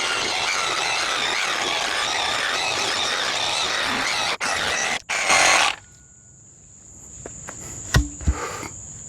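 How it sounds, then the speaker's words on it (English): A Sawzall reciprocating saw cuts through a wooden caber with a loud, close, continuous buzzing rasp for several seconds, stutters briefly, then stops, leaving a faint whine and a few light knocks. "Sawzall, because I can't find my handsaw, but I'm not gonna complain."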